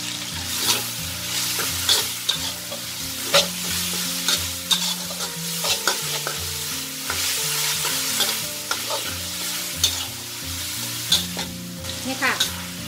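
Chicken and bamboo shoots stir-fried with oyster sauce in a pan, a steady sizzle broken by repeated scraping strokes of the spatula, with background music playing throughout.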